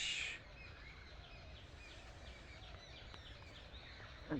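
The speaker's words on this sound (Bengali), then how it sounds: "পাখির কলরব শোনা যাচ্ছে।" A faint chorus of small birds chirps and twitters in the distance at dawn in a village, over a quiet, hissy outdoor background.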